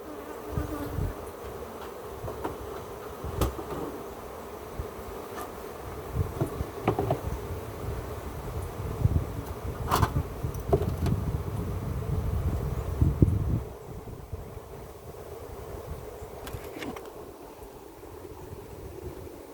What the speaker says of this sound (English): A lot of bees drop themselves to the ground.